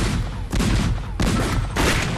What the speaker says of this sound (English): All right, let's fire this cannon.